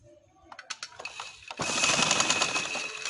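A sewing machine stitches underground round piping into a slit without cord, a few light taps and clicks giving way to a steady, close, rapid whirring run of stitching.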